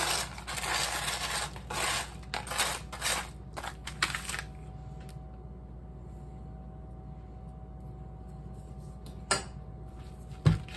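Crushed Oreo cookies scooped into a dish, a run of close scraping and rustling scoops for the first few seconds, then near quiet with a couple of small taps.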